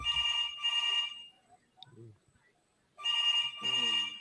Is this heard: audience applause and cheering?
no